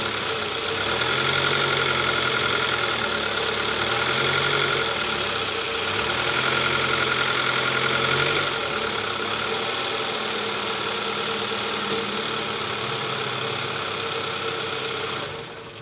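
A 2005 Toyota Camry with a 2AZ-FE engine idles steadily and close up, with a low, even rumble and a faint periodic pulsing, then dips slightly at the end, after an engine oil leak repair.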